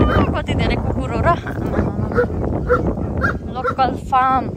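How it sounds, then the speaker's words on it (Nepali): A pack of dogs at a local farm bark and yelp repeatedly at varying distances, with a higher whining cry near the end, under steady nearby talk. "कति धेरै कुकुर हो र"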